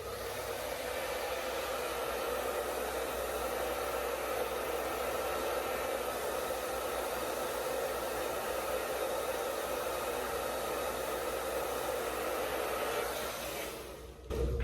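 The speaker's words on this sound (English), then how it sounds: "Turn the blow dryer off" A blow dryer roars steadily at close range while drying curly hair, a continuous loud airy hiss that cuts off abruptly at the end.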